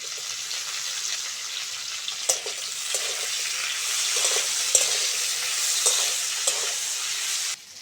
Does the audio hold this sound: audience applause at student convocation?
no